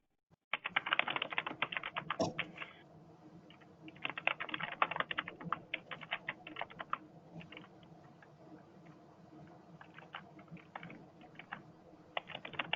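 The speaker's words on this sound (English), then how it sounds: "because Carolyn's typing in the notes" Notes being typed on a computer keyboard during a planning committee meeting, a continuous quiet patter of key clicks in bursts with brief pauses, close and with no talking.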